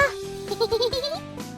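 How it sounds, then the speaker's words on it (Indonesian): An albino water buffalo (kebo bule) in Surakarta gives a few short bleating calls, close and moderately loud, with a quiet bellowing tail at the end. "Bisa dibilang mereka ini kerbau albino."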